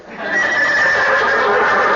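A horse whinnies as a sound effect in a 1942 radio comedy show, a single loud, sustained neigh lasting about two seconds, with no speech over it.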